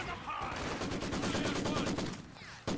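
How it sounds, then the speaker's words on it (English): Machine gun fire in the WWII strategy video game Company of Heroes 2, a loud, dense burst of rapid gunshots lasting a couple of seconds, then cutting off abruptly. "Oh, these guys got a machine gun."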